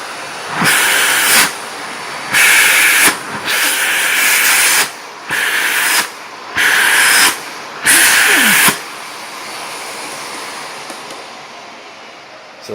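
A Miele Callisto S5281 canister vacuum runs at maximum suction in a series of loud airy roaring bursts, six in a row with short dips between, then settles into a quieter steady hiss.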